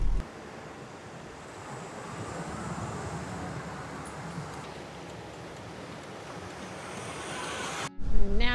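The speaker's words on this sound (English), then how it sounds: "Like a spa when the waves come in." Ocean waves break and wash steadily at Garnet Beach beside a rock pool where kids are surfing, a continuous broadband surf roar mixed with wind buffeting the microphone, ending in a brief louder gust of wind noise.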